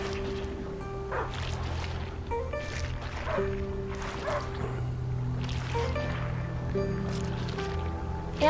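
A dog barks repeatedly in A Plague Tale: Innocence, in a dark, muddy outdoor area, the yips and barks recurring in bursts over a steady game soundscape with low background drone.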